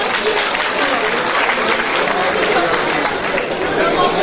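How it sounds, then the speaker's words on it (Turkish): Loud, sustained audience applause at a cemevi opening ceremony with music in Pendik, Istanbul, dense steady clapping filling the whole stretch with crowd murmur mixed in. "Az geldi alkışlar."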